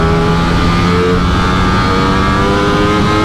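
A 2021 Ducati Streetfighter V4S motorcycle's V4 engine roars at high revs, a loud steady snarling drone held throughout, close by.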